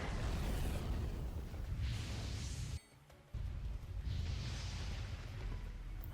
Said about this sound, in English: the bolt bomb is coming